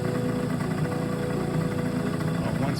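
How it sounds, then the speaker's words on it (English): A Honda RX50 engine idles steadily after a carburetor adjustment, a close, even mechanical putter with a constant low throb and no revving, running alone without talk. "I adjusted the carburetor to where, you know, obviously the idle is perfect."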